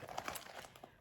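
Hands rummaging in a Red Aspen nail kit bag, quick faint crinkles and rustles of material in a short burst.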